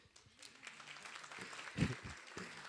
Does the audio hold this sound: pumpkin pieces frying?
no